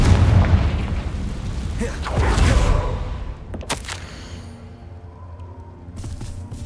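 A Confringo fire spell from Hogwarts Legacy erupts in a loud, booming blast that swells over the first few seconds, followed by a sharp crackling burst and a fading rumble, with a softer second boom near the end.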